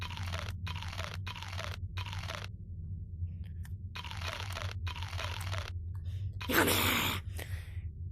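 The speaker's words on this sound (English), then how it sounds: "I'm gonna eat all this." Repeated crunchy bites of food in a video game come in quick bursts with short gaps, close and distinct over a steady low background hum, then a louder rustling burst near the end.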